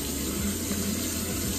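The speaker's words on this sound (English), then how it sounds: "I'm just taking water and like throwing it on my face." Water runs from a faucet into a bathroom sink in a steady, even splashing stream, close and continuous, with no voices.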